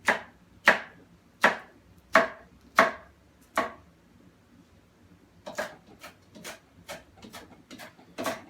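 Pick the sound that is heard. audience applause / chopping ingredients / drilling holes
chopping ingredients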